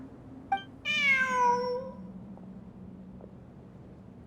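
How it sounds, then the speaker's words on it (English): A cat in the video game Genshin Impact lets out a single clear, drawn-out meow of about a second over a low background hum, with faint ticks around it. "Look, a cat."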